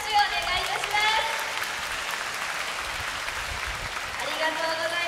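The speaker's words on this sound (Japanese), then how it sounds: "皆さん大きな拍手をお願いいたします。" An audience claps steadily at an orca public training show, sustained applause throughout, with an announcer's voice and whistle-like tones sounding over the crowd.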